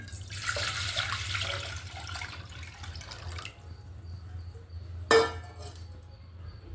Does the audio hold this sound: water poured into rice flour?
yes